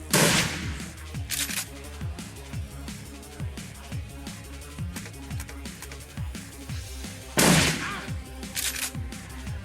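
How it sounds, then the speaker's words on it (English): Shotgun firing in Shadowrun Returns: two loud, sharp blasts spaced several seconds apart over a steady rhythmic beat of game music and background combat sounds. "It's a shotgun."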